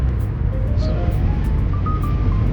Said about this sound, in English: y'all may have to, hear the wind blowing, but my air conditioner is not working in the car